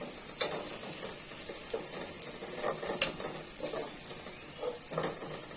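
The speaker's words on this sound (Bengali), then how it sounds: "এগুলো দিয়ে একটু ভালোভাবে ভেজে নিব" Onions and other ingredients frying and being stirred in a pan while making ilish pulao, a soft steady sizzle with scattered scraping clicks from the spoon, fairly quiet and close.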